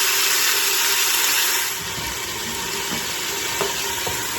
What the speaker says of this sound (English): Add the onions, and then I'll just let it simmer away